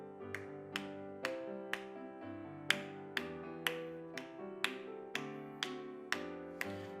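A church congregation claps along in steady rhythm to a hymn at a dawn prayer service, sharp regular claps about twice a second over sustained singing and accompaniment.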